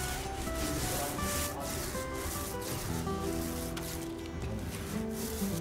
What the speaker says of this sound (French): travaillez-le avec la brosse de 100 mm, les chaux d'antan, de manière très irrégulière pour créer un effet brossé